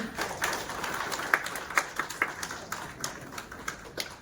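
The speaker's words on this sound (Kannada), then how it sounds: "ಜೋರಾಗಿ ಚಪ್ಪಾಳೆ ತಟ್ರಿ." Sparse, light clapping from a small audience at a community meeting for a new committee of sanitation and construction workers, with scattered individual claps fairly faint and irregular rather than a full ovation.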